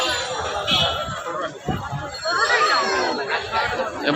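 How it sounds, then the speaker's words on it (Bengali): Heavy crowd chatter at a busy Boishakh festival, a dense, close murmur of many overlapping voices that stays steady throughout. "প্রচন্ড ভিড়।"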